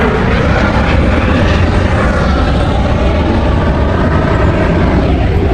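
A yellow air ambulance helicopter flies past with a loud, steady, broadband rotor and engine roar that stays constant and close throughout, with no talking.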